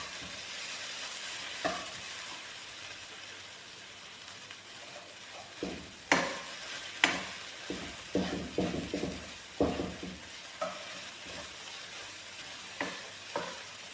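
Butter melting and sizzling in a pan with chicken and cheese, a low steady sizzle under scattered sharp clinks and scraping stirs of a utensil against the pan, with no talk.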